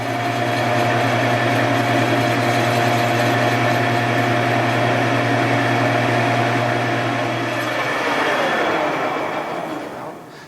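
A lathe resurfaces a Porsche air-cooled cylinder head, giving a loud, steady mechanical hum with a sustained whine that runs unbroken, then shifts and fades slightly near the end.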